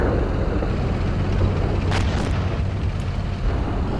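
Incoming enemy fire explodes around a tank in the Steel Beasts Pro simulator, a loud, continuous rumbling roar with low booming weight and a few faint sharper cracks on top.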